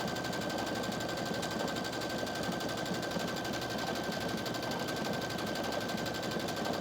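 An embroidery sewing machine stitches a design onto fabric, giving a steady, fast, faint mechanical rattle that runs unbroken throughout, no talk.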